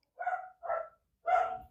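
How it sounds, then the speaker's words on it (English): A noisy dog barks three times at close range, in short loud bursts with brief pauses between them, with no talking over it. "I'm going to drop because my dog is very noisy"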